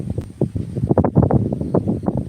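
Cold winter wind sweeps across misty open ground at dawn near Vang Vieng, Laos, buffeting the microphone in uneven low gusts that swell and fade throughout, with no voices.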